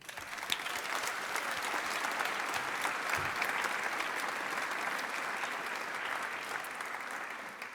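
A large crowd at a business lunch with Mayor John Tory breaks into a sustained round of applause, dense and even for several seconds, moderately distant and without speech.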